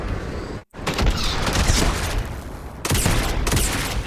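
Sustained, loud automatic weapon fire in the space game Starfield, a dense rattling stream with a short pause near the start and another burst later.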